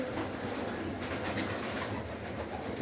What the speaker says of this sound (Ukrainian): Гонний отсек у мене. Ось вся птиця літає.